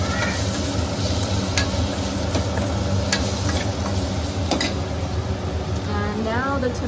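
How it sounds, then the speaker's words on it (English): A spoon stirs salted food in a sizzling frying pan with steady frying hiss and occasional scraping taps against the pan, close, while a voice talks over it. "Give it a good stir."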